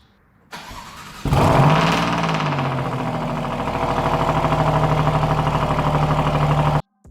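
A Ferrari-derived 2.9-liter twin-turbo V6 car engine cranks and fires with a loud rise, then settles into a steady, throbbing idle for several seconds before cutting off abruptly.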